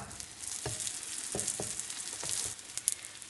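Börek sizzles and fries steadily in a pan over medium heat, with a continuous crackle and a few sharper pops and taps, close and moderately quiet with no talk.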